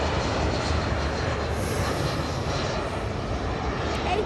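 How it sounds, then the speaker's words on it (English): An Airbus A320 airliner landing at Auckland Airport, heard as a steady broad engine roar that stays loud throughout without a clear rise or fall. "because there's another plane landing"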